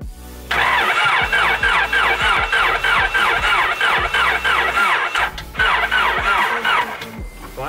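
A Honda car engine cranks repeatedly with a rhythmic whirring starter sound, pauses briefly, then cranks again, loud and close.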